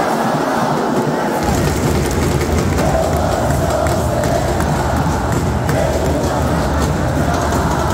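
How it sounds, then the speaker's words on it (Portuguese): Football crowd at a Fluminense vs Inter stadium match, a dense steady roar of many voices filling the whole stretch, loud and continuous with chanting swells and no single voice standing out. "A torcida tenta responder"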